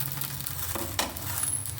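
Patishapta pitha frying in a pan, a soft continuous sizzle with a faint scrape or tap near the middle, close and fairly quiet, no voices.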